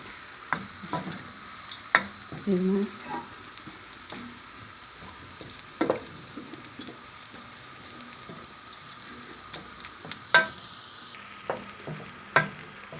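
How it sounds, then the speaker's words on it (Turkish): Semolina for Iğdır-style un helvası is stirred and roasted in a pan, giving sparse scraping strokes and soft crackles at an uneven rhythm against a faint sizzle, with no talking. "Şimdi irmik kısmını kattık. Böyle hızlı hızlı karıştırmamız gerekiyor."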